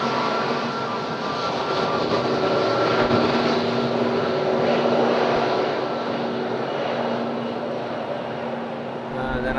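A Wizz Air airliner departs from Madeira Airport on a windy day, its broad engine roar sustained and fairly close throughout, with no voices.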